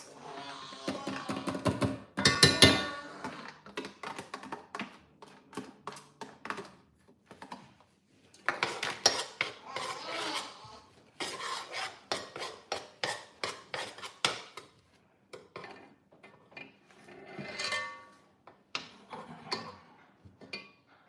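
Metal utensils tap, scrape and clink against a pot while oba (ponmo) is added to nkwobi. The irregular ticking comes in bursts, fairly close and moderately quiet, with no talking.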